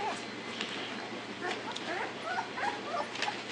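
Gotti-line bully puppies brawl up close, with a busy mix of yips, whimpers and sharp little barks over steady background noise, while a voice cheers them on.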